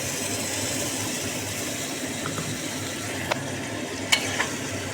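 Ground cumin and green chili paste are stirred in a frying pan over steady sizzling, with a few light scrapes of the spoon near the end.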